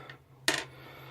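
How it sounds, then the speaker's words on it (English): A single short clatter of gaming dice handled or dropped onto a surface, one brief sharp rattle amid a quiet room hum. "And I have some dice in here that I picked up."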